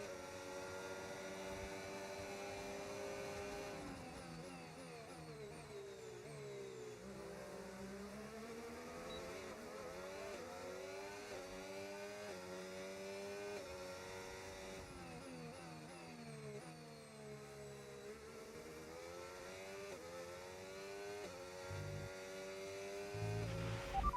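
An F1 car's engine in a racing video game whines steadily through the clip, pitch sweeping up and down with each gear change and corner, heard at moderate level without talk.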